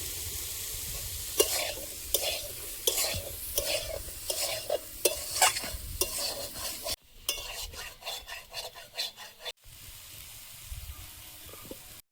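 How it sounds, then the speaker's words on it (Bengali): Brinjal frying in a pan, stirred with a utensil in a quick, repeated scraping rhythm over a steady oily sizzle, close and fairly loud, briefly cutting out and resuming; no talking. "বেগুনটা ভাজা হয়েছে, ঢেলে নেব"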